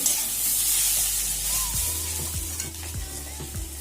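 Snake gourd cooked with egg sizzles steadily in a pan while a spatula scrapes and stirs it in a few spaced strokes, the frying hiss close and continuous with no talking.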